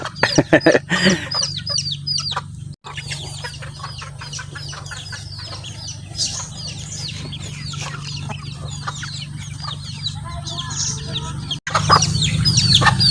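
Chickens cluck repeatedly in short bursts over a steady low hum, with occasional louder calls nearby and some rustling at the start.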